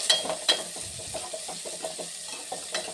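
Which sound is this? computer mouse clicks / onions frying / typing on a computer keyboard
onions frying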